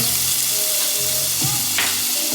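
Garlic sizzling in a hot frying pan with melted fat, a loud, continuous close crackle with a couple of brief utensil scrapes and a faint tonal hum underneath.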